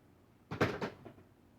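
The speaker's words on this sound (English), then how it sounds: "My cat is knocking over pictures." A cat knocking picture frames over in a home, heard as a short cluster of two or three close clattering knocks and thuds that fade quickly, with no voices.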